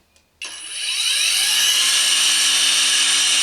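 A Saker brushless string trimmer spins up after a soft click and reaches a loud, steady high-pitched whine that runs continuously close by, with no talking.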